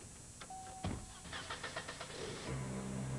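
A car engine held at a steady 2,000 RPM, a medium idle-like hum running throughout at close range with a few clicks and knocks over it, and a low steady tone joining near the end.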